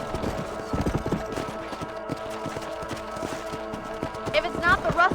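Rhythmic hoofbeats of galloping horses pound under game music and effects in Red Dead Redemption, with a horse's whinny rising near the end.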